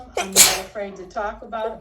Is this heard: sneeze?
yes